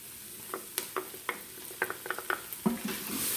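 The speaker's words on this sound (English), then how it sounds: "You want to mix that up really good." Chicken tikka masala in an Instant Pot is stirred with cayenne and coriander, a low sizzle punctuated by a rapid series of spoon scrapes and knocks against the pot, with no talking.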